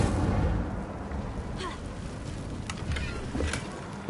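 The Incendio fire spell is cast inside a cave in the game Hogwarts Legacy, a low, booming, rumbling burst with some crackling on top that swells and ebbs over about four seconds.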